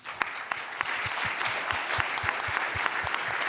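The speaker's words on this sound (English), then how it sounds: "Maybe if you would like to give them an applause." Audience applause for panelists closing a general assembly session, steady dense clapping from a crowd throughout, with low thumps and a few faint voices underneath.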